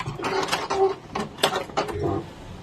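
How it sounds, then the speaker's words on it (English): A sewing machine runs a zigzag stitch over frayed fabric edges on a cheap vest, giving close mechanical clattering in quick uneven pulses over a few seconds. "I'm just going to go over the raw edges on the front with my zigzag again to try and just hold it together"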